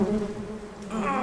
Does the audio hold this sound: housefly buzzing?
yes